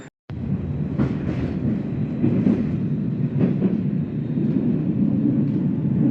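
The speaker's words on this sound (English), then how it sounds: "So there's a tram that will take me across the Vistula River" A Warsaw tram rumbles steadily along its rails, with low rolling noise and occasional clicks and squeals from the wheels, continuous throughout.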